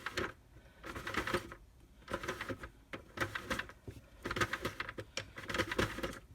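Sentro knitting machine cranked one-handed, its plastic mechanism giving off clattering, rattling bursts in uneven rounds separated by brief pauses, close and fairly loud with no talk.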